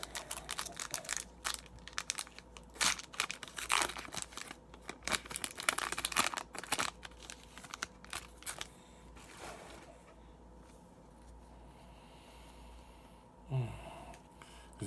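Plastic wrapper of a hockey card packet crinkles and tears in a dense run of sharp, close rustles for several seconds, then settles into quiet handling with a brief louder rustle near the end.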